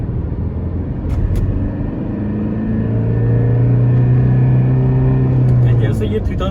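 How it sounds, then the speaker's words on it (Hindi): Tata Harrier SUV accelerating in second gear, its engine rising into a deep, droning boom that grows louder and holds steady toward the end, heard from inside the cabin. "जैसे ये 3500 RPM पहुंचता है, ये काफ़ी एक बूमिंग नॉइज मुझे इंजन से फील होता है।"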